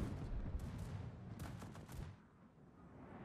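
Warship guns in the World of Warships video game firing AP shells, a quiet rumbling salvo of several booms that fades into a low background.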